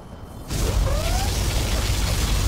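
Particle cannon firing in the real-time strategy game Command & Conquer Generals, an abrupt loud blast that swells into a sustained roaring rush with a rising electronic whine inside it.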